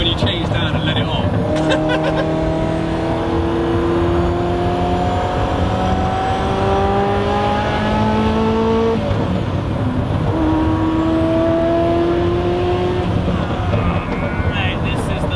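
Ferrari F40 engine roaring loudly from inside the cabin while driving, with rising and falling revs through gear changes and a constant crackle of exhaust pops, heard under people talking.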